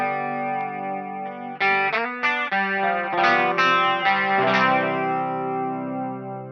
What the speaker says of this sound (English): So let's pick chorus.